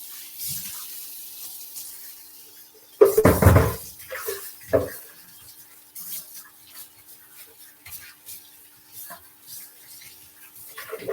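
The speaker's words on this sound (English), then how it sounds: "let me rinse this out" A pan being rinsed under a running kitchen tap, with a burst of splashing water and clatter early on, then quieter trickling and light handling noises through the rest.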